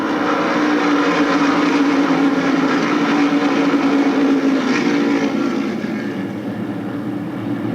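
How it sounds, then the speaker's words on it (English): NASCAR Modified Tour race cars in a 1993 race at Stafford Speedway, a loud continuous engine roar of the field passing close by that fades slightly toward the end. "Carl Pastriak, Steve Hart, Mike Iwanitzko, and we're racing."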